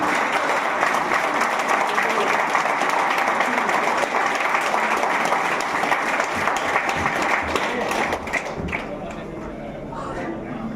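An audience at a large training convention in Varanasi claps loudly and continuously for several seconds, then the applause thins out toward the end.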